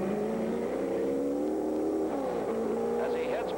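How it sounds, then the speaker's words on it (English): A 1964 Nassau Trophy race car engine labours and revs unevenly as it struggles to start, its droning, wavering pitch rising and falling under steady commentary. "as Bruce had a little trouble getting the engine started"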